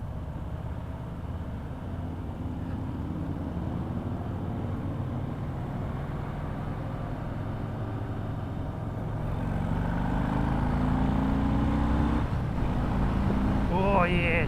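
A Harley-Davidson Fat Boy motorcycle with a Milwaukee 114 engine rumbles steadily at low pitch while riding, growing louder partway through as it accelerates, with a voice speaking over it near the end.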